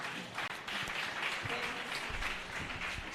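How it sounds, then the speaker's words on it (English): Steady audience applause for conference panelists in Lagos fills the clip, a dense patter of many hands clapping at moderate volume with no voices on top. "A round of applause for our panelists"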